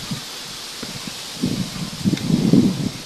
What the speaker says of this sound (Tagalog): Mahangin pa rin.